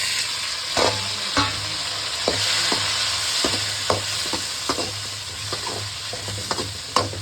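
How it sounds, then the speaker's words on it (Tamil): Small shallots and garlic sautéing in hot oil for radish sambar, a constant close sizzle punctuated by regular scraping clacks of a spoon stirring against the pan. "சின்ன வெங்காயமும் பூண்டும் போடணும். நல்லா வதக்கணும்."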